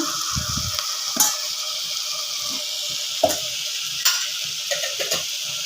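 Onion masala seasoned with salt and turmeric sautés in a pan: a steady soft sizzle runs throughout, with a few scraping stirs and brief spoon clinks rising above it, close by.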